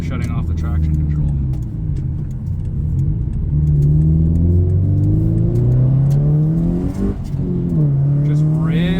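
Tuned Subaru STi with traction control switched off accelerating hard, its engine note climbing steadily through the gears with a loud, close rising drone from inside the car, and a voice speaking over it.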